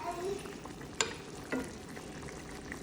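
Curry being stirred into rabbit in a pot, a low bubbling simmer with two sharp spoon knocks against the pot, close and quiet, no talk.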